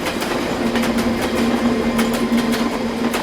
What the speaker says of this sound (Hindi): यहाँ आसपास कोई ट्रेन जाती है?